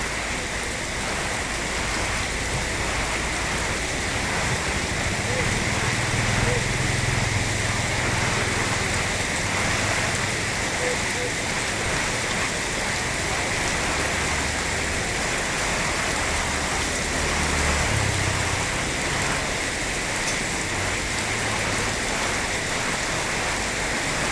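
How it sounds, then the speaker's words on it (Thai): Steady rain falls throughout, a dense even hiss of drops on surfaces at a constant level, with no talk. "บรรยากาศนะครับฝนรินครับ"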